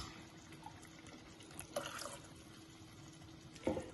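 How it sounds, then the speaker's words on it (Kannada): Water pours into a cooking pot while mutton biryani is being made, a soft, faint splashing with two brief louder gushes against a quiet kitchen background. "ಈಗ ನೀರು ಹಾಕೊಂಡ್ಬಿಟ್ರಮ್ಮ?"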